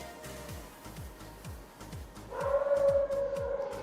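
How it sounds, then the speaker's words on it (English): Dogs howl and bark: one holds a sustained, wavering howl, joined by yips from another dog, over a steady rhythmic thumping in the background. "I wonder if you could hear the crazy dogs barking."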